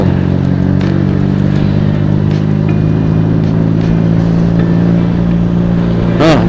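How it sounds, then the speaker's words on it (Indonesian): Heavy engine drone with low rumble, likely a tour bus on a road between Pangandaran and Bandung, steady and loud throughout, with a rising harmonic sweep near the end. "bis lagi datang tuh, bis pariwisata"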